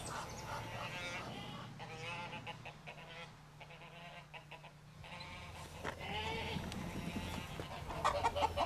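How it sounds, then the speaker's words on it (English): An Egyptian goose, molting at an animal show, gives a series of harsh, repeated honks at moderate distance, faint overall against low background hum. "This is an Egyptian goose."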